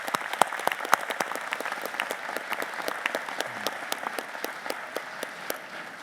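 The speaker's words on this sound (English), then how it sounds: "Can we give her another round of applause" An audience at a Massey University graduation ceremony in Manawatū, May 2025, gives a fairly soft, even round of applause. Individual claps are clearly audible in a hall for about six seconds.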